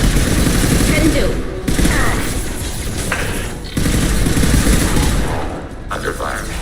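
Heavy, sustained gunfire in the sci-fi shooter Mass Effect 2 (Legendary Edition), loud dense bursts of automatic fire that pause briefly and resume, with voices talking over the combat.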